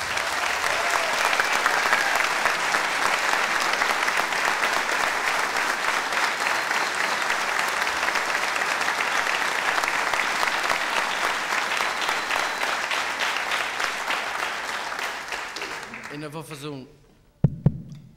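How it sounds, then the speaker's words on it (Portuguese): Sustained, loud crowd applause at a carnival performance by a folk dance group, steady dense clapping for about fifteen seconds before fading and stopping. "Uma salva de palmas para eles, por favor."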